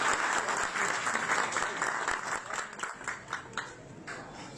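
Audience applause at a ceremony presenting a championship gold belt, loud crowd clapping that starts full and gradually thins and fades toward the end, with no talk over it.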